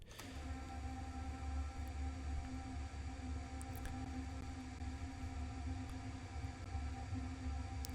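A single drum hit sustained through a very long ambient hall convolution reverb, panning gradually from left to right as a continuous, dense wash with a low steady drone, heard alone without talk.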